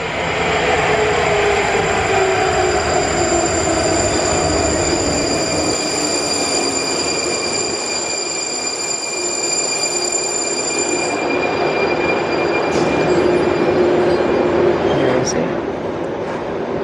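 A metro train rolling into an underground station, with a loud steady roar of wheels and carriages, high squealing tones that fade partway through, and a couple of sharp clanks near the end while a voice talks faintly beneath.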